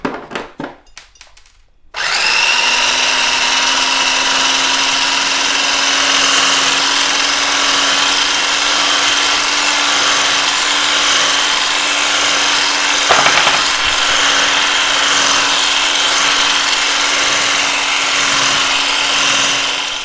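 An electric mixer whips cream into chantilly, starting after a brief clatter and then running as a steady, loud, unbroken motor whir with a small bump midway.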